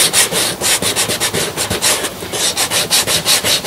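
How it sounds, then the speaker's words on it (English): The edge of an Alfred Sargent shoe is rubbed with 80-grit sandpaper in quick, rhythmic back-and-forth strokes. The scratchy rasps are close and loud, with no talking. "I'm gonna use a sandpaper. This is 80 grit to smooth out the edge of the shoes."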